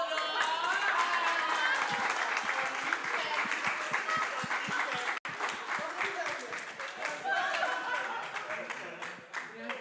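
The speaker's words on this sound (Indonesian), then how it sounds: "Tepuk tangan." A small group claps at a home birthday party, close and lively hand claps in uneven bursts mixed with chatter and a little laughter, dipping briefly midway before picking up again.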